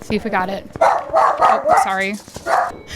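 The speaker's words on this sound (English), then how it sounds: "sorry about the barking. I can't help that." A dog barks several times in quick succession, close and loud, while a person speaks briefly over it.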